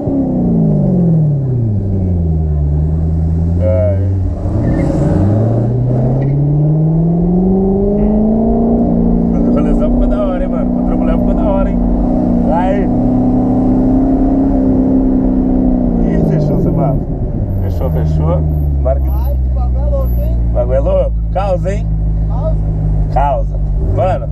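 A Chevrolet Camaro engine on a night outing revs hard and loud up close, its pitch climbing and falling in long sweeps before settling into a steady roaring idle.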